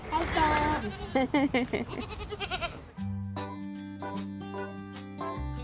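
Goats in Philadelphia bleat loudly and close by, several overlapping wavering cries in the first half before music takes over.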